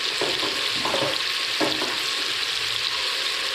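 Chicken sautéing in a pan with ground coriander and turmeric, a dense continuous hiss and sizzle with a few stirring scrapes, loud and close, no talking.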